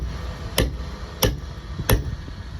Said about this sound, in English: Hammer and bolster.